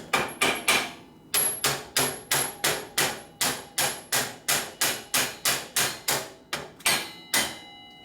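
A hammer strikes metal again and again in a steady, fast rhythm, each blow sharp and ringing, with a brief pause early on, during a 1972 Harley-Davidson 1000cc Ironhead Sportster rebuild.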